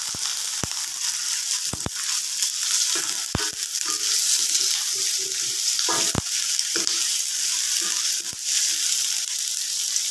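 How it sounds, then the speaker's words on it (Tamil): Chopped onions sautéing in hot oil in a pan for a King Oyster mushroom stir fry: a continuous close sizzle with scattered sharp clicks and scrapes of stirring, no talking. "இப்போ வெங்காயம் போட்டு வதக்கணும்."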